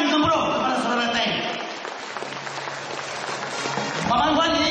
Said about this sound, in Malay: Bagi satu tepukan gemuruh kepada saudara Teng.